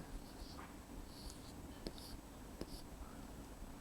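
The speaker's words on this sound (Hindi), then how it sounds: "आइए जंगल लिखते हैं" A word written by hand in Urdu, heard as a faint, close scratching of pen strokes with a few soft taps, very quiet against a low background hiss.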